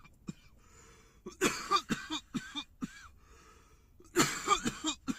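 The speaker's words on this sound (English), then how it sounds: "that's why I'm coughing." Several harsh, close coughs after smoking marijuana, coming in two clustered fits separated by a short quiet pause.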